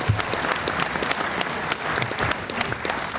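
A crowd claps for sponsors at an event, steady dense applause of many hands lasting a few seconds, loud and close with no talk over it.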